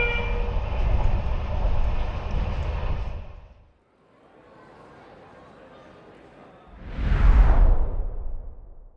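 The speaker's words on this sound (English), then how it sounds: "We are catching the northbound day train Fjerntog 471" A Norwegian northbound day train, Fjerntog 471, runs north from Trondheim on the Arctic line toward Bodø. A loud rumble fades to a quiet lull, then a rushing whoosh swells up close.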